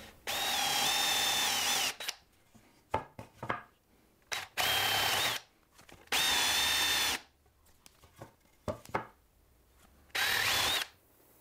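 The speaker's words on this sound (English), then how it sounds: "it's time to start making the through holes. Let's keep drilling." A power drill bores through holes in rough construction lumber in four loud bursts of about a second each, with clattering and handling noises in the pauses between.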